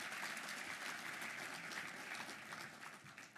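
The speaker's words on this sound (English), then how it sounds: "So please give yourselves a round of applause." An audience at a Miami conference applauds, broad steady clapping heard quite faintly and at a distance, tapering slightly toward the end.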